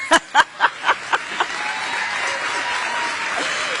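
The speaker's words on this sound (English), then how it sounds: "Can you believe that's an applause line?" An audience at a campaign event in Malvern, Pennsylvania claps and cheers. A few sharp, loud claps open it, then steady applause fills the room and carries on with crowd noise under it.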